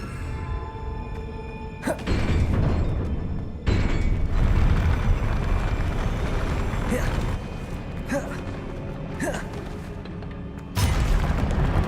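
Confringo spell blasts go off in the Hogwarts Legacy video game as booming fiery explosions, several of them in a row, with sharp impacts over a rumbling roar of battle.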